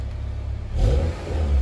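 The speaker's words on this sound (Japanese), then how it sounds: "駆け上がりもいい感じですね。" Honda Integra Type R DC5 with Ohlins coilovers revs up sharply from a steady idle, the engine note swelling loud and close partway through, with no talking.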